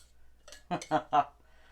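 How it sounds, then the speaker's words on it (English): A spatula scrapes coffee cake batter out of a mixing bowl in three quick, close strokes that clink against the bowl, with quiet pauses between them. "Scrape the bowl."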